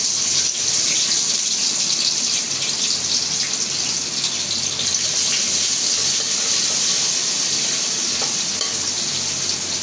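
Onions dropped into hot oil sizzle and crackle loudly in a continuous hiss, with some stirring, close up and without any talk.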